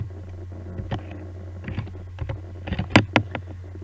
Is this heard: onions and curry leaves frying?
no